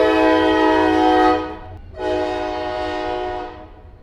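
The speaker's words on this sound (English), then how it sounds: "Pause for the train." A passing train sounds its horn, two long loud blasts separated by a brief gap, with low rumbling rail noise underneath and no talking.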